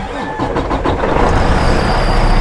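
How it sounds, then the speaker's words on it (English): A Detroit DD15 diesel truck engine with a failing fuel injector cranks and catches, a loud close rumble that churns briefly and then settles into a steady running roar, with no talk. "Let's start the engine."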